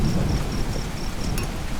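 Heavy rain pours down steadily during a thunderstorm, with low rolling thunder rumbling beneath the dense hiss of the downpour. There is no talking.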